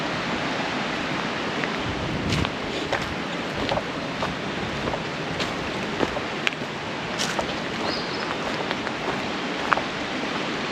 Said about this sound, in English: there's all water flowing through here